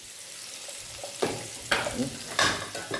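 Small desi puti fish fry with turmeric and spices in a pan, making a soft sizzle with several louder bursts of stirring and scraping, close and uneven.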